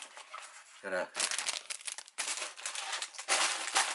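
Plastic bags crinkle and rustle loudly close up, in several bursts of crumpling that stop and start, with a brief voice heard near the start.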